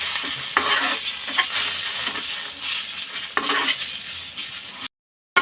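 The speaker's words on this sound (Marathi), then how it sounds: "आता दोन मिनटं आपण हा मसाला परतून घेणार आहोत" Ginger pieces, garlic cloves and masala are sautéed in a pan for Maharashtrian misal, with steady sizzling and repeated scraping stirs of a spatula against the metal, close and loud, ending in a brief silence.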